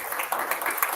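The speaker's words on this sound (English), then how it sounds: "remain standing for applause" Brief burst of audience applause at an international roundtable conference, a dense, steady patter of many hands clapping together.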